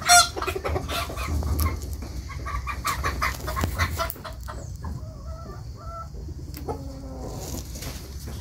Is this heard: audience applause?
no